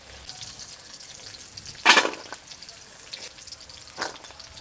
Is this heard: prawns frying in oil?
yes